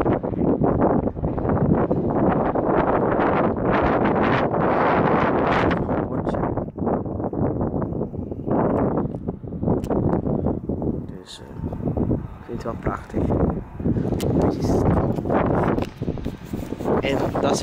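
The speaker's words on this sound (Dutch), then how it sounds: "Dat is echt wel wind." Wind blowing past a school building with a clock tower on the way to a cookie market, loud continuous gusting and microphone buffeting that dominates throughout, easing slightly toward the end.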